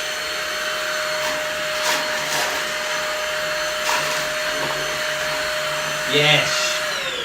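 A household vacuum cleaner runs over a bass guitar, a steady loud whine with a constant drone, changing in tone a few times as the nozzle moves, with a brief louder suction burst near the end.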